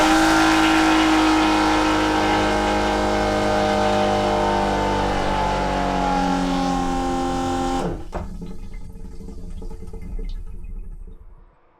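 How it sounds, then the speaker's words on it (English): Regular electric toilet aboard a boat flushing with a loud, steady motorized whir and rush of water that cuts off abruptly, leaving faint clunks and a dying hiss. "so this is the noise level of a regular electric toilet."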